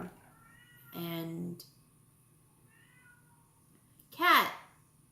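A cat meows twice near a beach where snook are being fished: one steady, clear meow early on and a sharper, rising-falling meow near the end. A brief spoken word comes between them over a quiet outdoor background.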